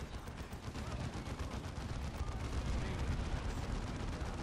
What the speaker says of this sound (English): let's drop some artillery right there